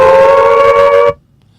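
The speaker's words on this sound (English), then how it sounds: "Or a siren?" A steady, loud siren tone with a clear pitch holds for about a second, then cuts off abruptly into near silence.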